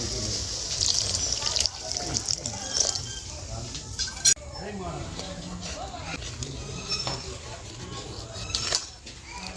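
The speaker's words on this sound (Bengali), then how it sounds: "কর্নফ্লাওয়ার গুলা জলটা দিয়ে দেবো।" Cornflour slurry pours into a Veg Manchurian gravy, a faint liquid trickle and splashing in a kitchen, heard beneath a person talking.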